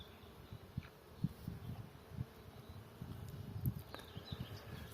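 Faint buzzing of bees around flowering coral bells drifts in a quiet garden, with soft low thumps and a few brief higher chirps.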